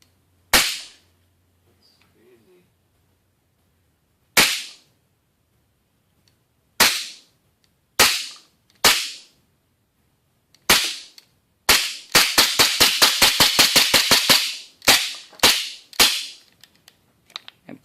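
Modded airsoft pistol firing: sharp, loud, close cracks, first as spaced single shots, then a rapid burst of about a dozen, followed by a few more single shots.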